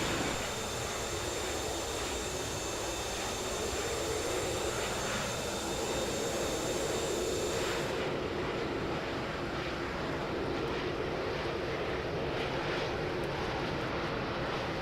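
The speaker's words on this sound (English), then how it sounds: "we might as well take a look from the outside and see how Allie's doing bringing this plane down" Inside a flight simulator, an L-39 Albatross jet engine drones steadily as the plane comes in to land, a constant airy whine and rumble that softens slightly partway through, with no talking.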